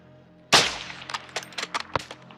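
Gunfire in Call of Duty Modern Warfare 2 on PS5, a sharp loud shot followed by a rapid scatter of smaller cracks and impacts, close and alone without talking.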